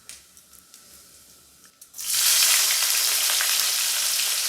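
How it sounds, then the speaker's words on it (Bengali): Dried red chillies and whole cumin seeds hit hot oil for a village-style mutton dish, a few quiet clicks and taps before a sudden loud, sustained sizzle takes over and continues. "এবার আমার বউ গোটা জিরেটা দিয়ে দিল। হালকা করে একটু ভেজে নেওয়া হবে।"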